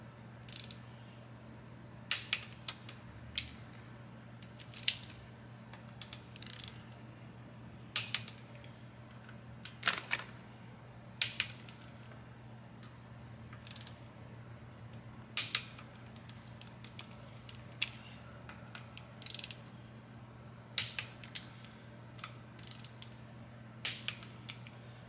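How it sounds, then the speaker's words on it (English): Creaking, clicking ratchet and torque wrench strokes come from tightening the cam support plate bolts to 120 foot-pounds on a 143 cubic inch Harley-Davidson Milwaukee 8 engine. The strokes are close and irregular, with short bursts spread over a steady low hum. "now I'm going to torque the cam support plates in order to 120 foot-pounds"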